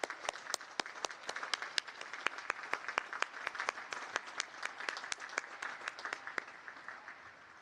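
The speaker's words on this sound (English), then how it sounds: "How about one more round of applause for our parents out there?" Sharp, distinct claps ring out from a sparse crowd at a United States Naval Academy commissioning ceremony, an irregular patter with individual hand strikes standing out and easing slightly toward the end.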